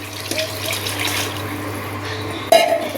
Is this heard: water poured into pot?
yes